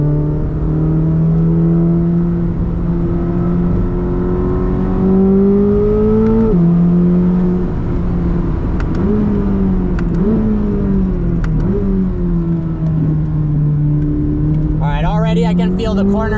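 A 2025 Corvette ZR1 accelerating on a drive, its engine droning loud and close, pitch climbing through gears with shifts and brief dips, a voice talking over it.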